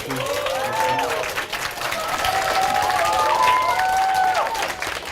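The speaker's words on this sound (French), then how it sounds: "Main d'applaudissements" An audience in a secondary school hall applauds a live musical performance, loud sustained clapping with some cheering and voices speaking over it throughout.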